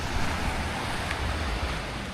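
Sea waves washing onto a shore, a steady broadband rush with wind buffeting the microphone, loud and continuous, with no voices present.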